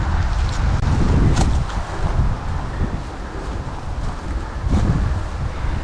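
Gusty wind buffeting the microphone on an outdoor disc golf course, rumbling in uneven surges with faint rustling, no voices.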